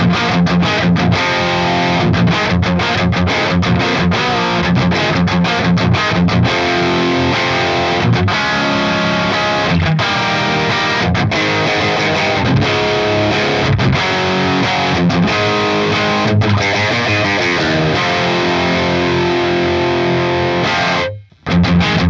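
Electric guitar played through a Helix Brit 2203 amp model at mid-gain, a loud, continuous crunchy distorted tone with chords and riffs, ending abruptly.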